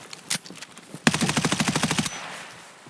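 A burst of rapid automatic gunfire from a mag dump in Escape From Tarkov, likely a G36 rifle: one single shot, then about a second of fast, evenly spaced rounds fired close and loud, fading into a short tail.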